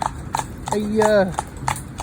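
Hooves of a cob horse driven on a road clip-clop in a steady even rhythm, close and clear, while a voice speaks over them in the middle.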